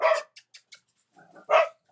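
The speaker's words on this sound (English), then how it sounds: "But yet they are barking." Dogs bark indoors in a close, loud first bark, then a few quick yips and soft whimpers, and finally another sharp bark, with no talking.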